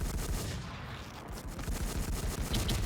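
Gunfire in a shooting video game: rapid, closely spaced shots in steady bursts, loud and near, with no talking over them.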